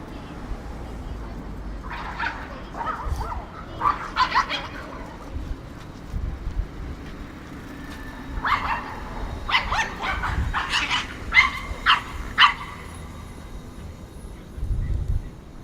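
Small dogs barking in short yapping bursts and scattered yips, some clustered and some isolated, over a low background rumble in a cold Toronto setting.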